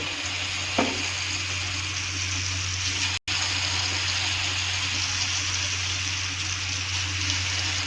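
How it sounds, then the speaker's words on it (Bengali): Egg fritters frying in hot oil, a steady loud sizzle and crackle throughout with a brief knock early on and a momentary dropout midway, no voices. "এখন তেল বসিয়ে দিয়েছি দেখো গরম করার জন্য। এখন আমি এটার বড়া বানিয়ে নিচ্ছি।"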